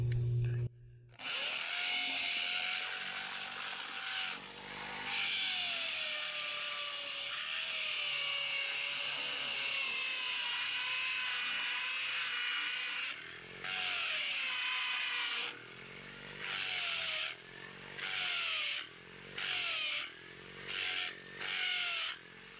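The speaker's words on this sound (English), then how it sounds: "we're going to take the drill and we are going to try and drill it and see how it goes" A power drill bores a hole into concrete in a backyard while securing a pergola, with a whining motor running in long sustained stretches before breaking into short repeated bursts toward the end, fairly close and moderately loud.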